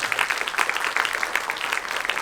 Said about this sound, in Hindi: सबसे पहले अपने टीचर्स और स्कूल के लिए जोरदार ताली बजाएं